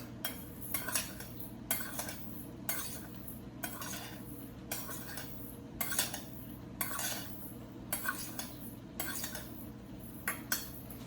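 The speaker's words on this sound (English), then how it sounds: "So I'm going to give this a little bit of a stir" A spoon stirs a panko breadcrumb mixture in a bowl, scraping and clinking against the sides in steady repeated strokes about once a second, close and clear over a low background hum.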